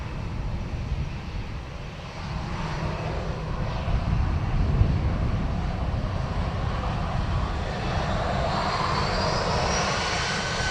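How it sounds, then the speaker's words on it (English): National Airlines Boeing 747-400 taking off from runway 10 right at Dublin Airport, a steady broadband jet roar that builds slightly and holds loud throughout, with a rising whine emerging near the end. "National Airlines 747-400. Runway 10 right, clear takeoff."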